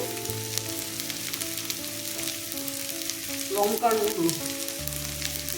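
Tomato, ginger, onion, garlic and green chilli sautéing in a pan with turmeric, cumin, coriander and chilli powder for a potato chicken curry, giving a steady close sizzle with a brief stirring clatter partway through.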